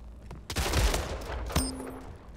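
Shotgun blasts in the arena shooter Splitgate, two sharp booming reports about a second apart, the second one followed by a brief ringing tone, close and loud with no talk.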